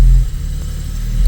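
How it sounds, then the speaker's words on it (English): A BMW N55 engine with a newly installed eccentric shaft and Valvetronic idles during its relearn, giving a steady, close, low mechanical rumble with a slight swell in level and no talk. "So the idling now is like going up and down, up and down. It's jumping."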